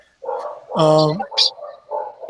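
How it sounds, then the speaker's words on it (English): A dog barks a few times in the background while people talk over it. "And dogs, is that Thiago maybe?"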